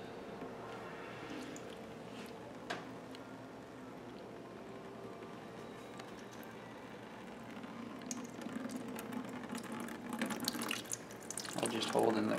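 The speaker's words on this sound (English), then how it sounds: "you might end up getting water coming out of the one that we just opened" Water drains out of an opened port on a PC water cooling loop, a soft trickling and splashing that builds louder toward the end, with quiet talk and handling noises underneath.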